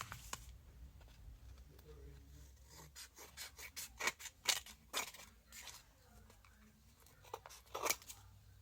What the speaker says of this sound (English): Just take your scissors and cut the excess around